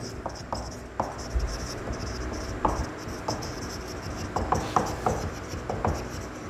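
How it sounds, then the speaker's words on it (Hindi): A hand writes out a definition during a chemistry lecture, the pen giving soft irregular scratches and taps across the writing surface, close and moderately loud, with no talking. "मैं लिख देता हूँ"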